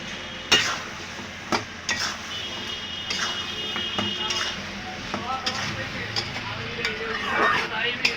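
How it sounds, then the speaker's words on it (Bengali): Three medium potatoes sauté in a pan, a low sizzle broken by sharp, regular knocks and scrapes of a utensil stirring them, with a voice speaking now and then over the cooking. "আলু তিনটা আগে কষিয়ে নেব"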